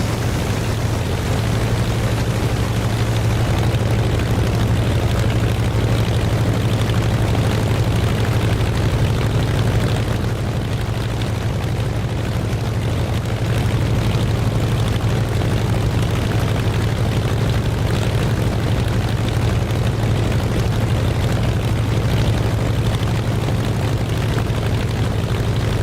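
A Russian aircraft's engine in the DCS flight simulator drones steadily and loudly throughout, a constant low hum with broadband rush and no talking.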